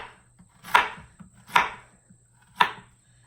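Three sharp, evenly spaced knife chops cut zucchini into chunks on a board, each a crisp close thud with quiet pauses between.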